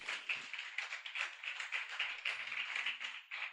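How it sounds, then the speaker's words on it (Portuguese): Applause from a congregation during a church worship service, a steady patter of many hands at moderate distance, with a faint voice briefly underneath. "Vamos aplaudir ao Senhor."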